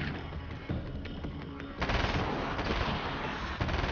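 Rapid submachine gun fire in the video game Alan Wake's American Nightmare, a dense, continuous stream of shots that grows louder and fuller midway through, with no talk over it.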